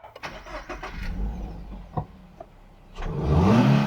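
A 2024 Toyota GR86 sports car with a manual gearbox and a 2.4-litre boxer engine sits quiet for a few seconds with a few faint cabin clicks, then fires up with a short crank and a rising, throaty rev close by.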